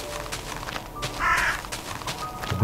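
A crow in the Slenderman video game caws loudly once, a harsh nasal call standing out over a steady, muddy ambient background with faint rustling.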